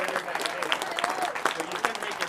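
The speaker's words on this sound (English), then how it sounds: "can we please give a big round of applause for our two finalists" Audience applause for the two finalists at a World Series of Poker final table, a steady dense patter of many hands clapping close by, with a voice briefly audible over it.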